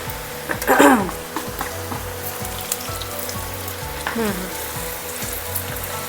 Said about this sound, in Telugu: సెకండ్ టైం ఫ్రై చేస్తున్నాం కాబట్టి వేసేస్తున్నాను